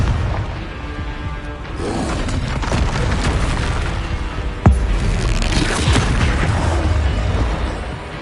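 A Confringo blasting spell in Hogwarts Legacy detonates in a loud, sustained booming explosion with a rumbling roar, a sharp crack midway and a long, dense blast tail.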